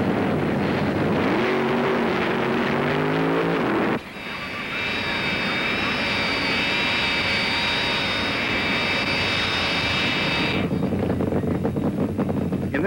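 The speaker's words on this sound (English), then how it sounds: "He has that turbine wound and screaming" A jet-powered drag racing car at a 1970s drag strip, its turbine spooling up into a loud sustained whine that holds for several seconds before the tone shifts, with a vehicle roar underneath and no speech.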